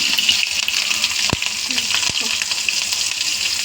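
Green chillies fry in a pan over a low flame, giving a steady, close sizzle with faint oily crackle and two brief sharp knocks partway through.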